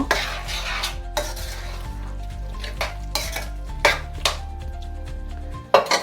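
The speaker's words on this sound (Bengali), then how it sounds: "ভেজে রাখা চিংড়ি দিয়ে দিলাম মিশিয়ে দেবো" Fried prawns mixed into cooking bottle gourd in a pan for lau chingri: irregular metal spoon scrapes and knocks against the pan over a low steady sizzle, close and moderately loud with no talk.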